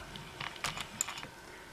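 Quick keystrokes on a computer keyboard while entering a debug command for a Furby Connect toy: a short, irregular burst of soft clicks and taps, close and alone, lasting about a second.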